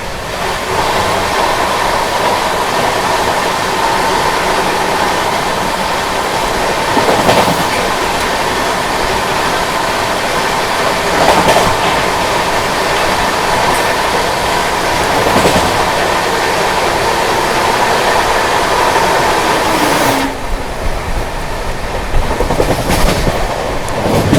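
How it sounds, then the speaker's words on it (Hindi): From inside a moving 2AC coach, the Navjeevan Superfast Express, running from Ahmedabad to Chennai, passes on the adjacent track with a loud, continuous rush and rhythmic clatter of wheels over rail joints, lasting over twenty seconds. "सामने से आ रही है अहमदाबाद से चलकर चेन्नई की ओर जाने वाली नवजीवन सुपरफास्ट एक्सप्रेस"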